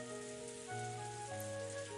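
Cold rain beats down steadily in a scene from the visual novel Umineko, a soft continuous patter under sustained tonal music, with no voices.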